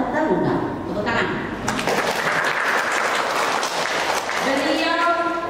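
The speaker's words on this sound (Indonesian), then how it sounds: "Tepuk tangan." An audience at a language seminar bursts into applause, a broad wash of many clapping hands rising after a voice and filling the room for several seconds, with speech audible at the edges.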